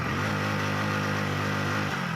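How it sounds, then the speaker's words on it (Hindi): A Hero HF Deluxe BS6 fuel-injected motorcycle engine runs steadily and smoothly up close, with no break or misfire, after a starting-misfire and check-engine-light problem was repaired. "जैसे इस बाइक को मैं स्टार्ट किया है तो ये गाड़ी मेरी प्रॉपर रेस लेती है।"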